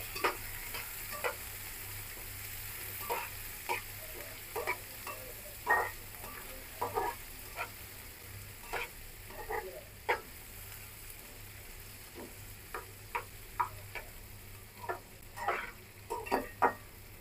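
A banana flower mixture fries quietly in a pan with turmeric, the low sizzle broken by sporadic scraping and tapping strokes from stirring. It sounds close and fairly soft, with no talking.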